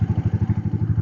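A Royal Enfield Meteor 350 motorcycle pulls away in first gear, its single-cylinder engine thumping in a steady, even, close-up beat for about a second.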